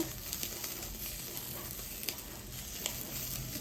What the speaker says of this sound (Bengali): এই সসেজটা একটু ভেজে নিচ্ছি